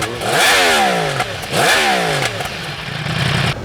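A Yamaha YZF R1M crossplane four-cylinder motorcycle engine, rough-sounding as it fires up, revs loudly and close by in two rising blips, then settles into a gruff idle.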